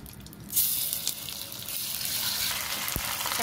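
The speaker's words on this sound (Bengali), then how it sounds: "এখন দিয়ে দিব পেঁয়াজ।" Onions dropped into hot oil for a prawn malai curry, a sudden sizzle burst that settles into a steady, moderate frying hiss with a small clink near the end.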